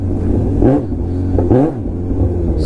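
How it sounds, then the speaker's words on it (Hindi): Kawasaki Z900 motorcycle engine revving hard in two rising bursts while the rear tyre spins, loud and close, with a steady idle rumble between the revs. "स्किट कर रहा भाई, टायर पूरा घूम रहा"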